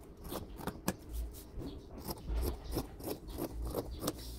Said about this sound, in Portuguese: Cortei aqui a sainha.